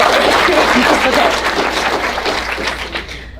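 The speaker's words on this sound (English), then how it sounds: "Thank you for clapping" A room of teens applauding after a speaker at UCLA, dense loud clapping that stays steady then tapers off at the end, with some crowd voice mixed in.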